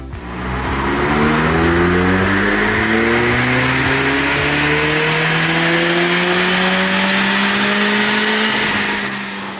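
Suzuki Jimny 1.5 engine revving hard on a dyno, a loud close run where the engine note climbs steadily in pitch through the gears, rising harmonics sweeping upward over about nine seconds.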